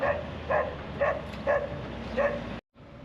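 A dog barks five times in an even rhythm, fairly close, from a cage on a livestock truck over a low mechanical rumble, then the sound cuts out briefly.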